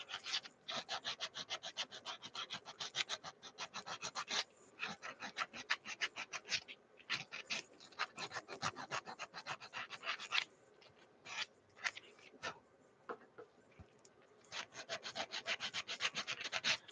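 Rhythmic back-and-forth sanding of wood, with steady rasping strokes in quick runs broken by short pauses, close and fairly quiet with no talking.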